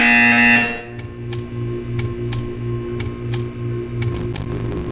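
Portal 2 test-chamber buzzer sounding as a steady run of short, evenly spaced pulses for several seconds over a low background hum, following a brief louder tone at the start.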